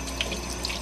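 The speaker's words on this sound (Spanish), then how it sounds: "Voy a asegurarme que le entre hasta dentro del agua, saca toda la mugre" Running tap water splashes steadily over a makeup brush being rinsed in a sink, a continuous close hiss of flowing water with no speech.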